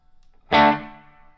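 A guitar run through an ambience pedal on a pedalboard: one loud, sudden chord with a bright attack that rings on and slowly fades, its shimmering tail lingering for almost a second, with no other sound around it.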